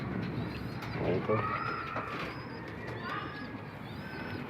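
Loft pigeons, including racing flyers, young birds and breeders, coo in soft overlapping calls close by, while someone speaks briefly over them.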